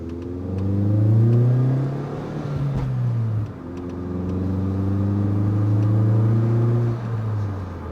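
A Volkswagen GTI with a factory diverter valve revs hard through first gear and then the next on a road test, engine pitch climbing steadily, dropping at the shift and climbing again, loud and close from inside the car.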